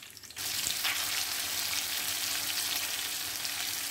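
Tota mirch green chillies frying in a pan, a loud, even sizzle that starts suddenly and holds steady, close up, with no speech.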